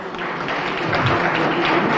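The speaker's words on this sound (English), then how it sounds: "Men, let's clap for all the ladies here." An audience at a women-in-fintech summit claps for the women in the room, a dense, steady patter of many hands close by, holding at an even level throughout.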